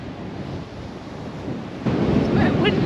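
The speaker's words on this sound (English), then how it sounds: "Now, we did expect it to be windy, but it's actually coming from the northwest straight into our faces." Strong northwest wind blowing straight onto a beach, a rough, roaring buffet against the microphone that grows louder and heavier partway through, with surf-like rumble underneath.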